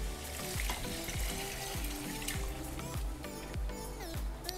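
Water from boiling mutton in a pressure cooker pouring steadily into a pot, a continuous splashing gurgle with a busy hiss and clinks, close by.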